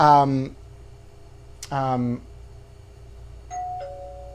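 Doorbell ding-dong chime used as a show segment sound effect, two clear two-tone chimes rung in succession with a short gap, close and loud over a quiet background, followed by a fainter higher tone.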